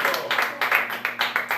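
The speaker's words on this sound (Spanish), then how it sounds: "Si le puede dar una alabanza de aplauso al Señor en esta hora." A church congregation claps in praise during a Spanish-language service, a burst of quick rhythmic applause with regular clap beats throughout, close and fairly loud.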